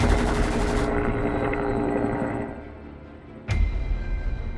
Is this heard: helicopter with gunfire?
yes